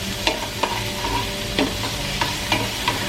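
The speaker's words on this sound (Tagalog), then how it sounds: "Lulutuin lang po natin itong ating sibuyas, itong ating onion, na mag-crystallize siya" Onion sautéing in a pan with a continuous dense sizzle and a few regular scraping stirs, close and alone without talk.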